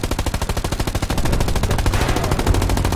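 Sustained machine gun fire in the WW2 shooter Hell Let Loose, first an evenly spaced rhythmic burst and then a dense, continuous roar of overlapping automatic fire, loud and close.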